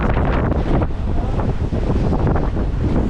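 Strong, stormy wind gusts across the Isle of Skye, buffeting the microphone with a loud, continuous broadband roar that surges and dips without a break.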